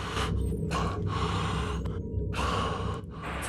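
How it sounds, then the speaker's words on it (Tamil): Tense, heavy breathing of the protagonist in the horror video game Kamala: repeated close gasping inhales and sighing exhales, loud and broadband, alone without speech. "இந்த ப்ரோட்டாகனிஸ்ட் மூச்சு விடுறதே பயமாக இருக்குது"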